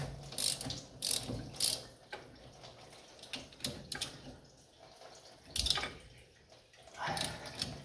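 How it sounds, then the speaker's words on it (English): A ratchet clicking in short bursts while working on an overheating classic car, a handful of sharp, close rattling clicks spaced irregularly over a quiet background with faint dripping. "that was the ratchet"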